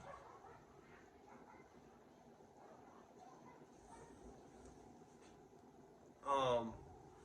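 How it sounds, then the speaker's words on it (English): Dogs bark once in a short, loud burst near the end, following a stretch of steady low background noise with no one talking. "Them dogs, man."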